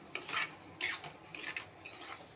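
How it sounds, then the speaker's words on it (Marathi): Semolina roasting in ghee in a kadhai, stirred with a utensil: several gritty scraping strokes against the pan, close and fairly soft, in an uneven rhythm with no talking. "तर अशा प्रकारे कढईमध्ये मी तूप घातलेलं आहे, तुपामध्ये रवा."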